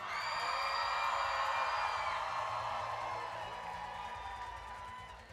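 An audience at the 2019 Alabama FBLA state leadership conference opening session whoops and cheers loudly, a sustained crowd roar that slowly fades.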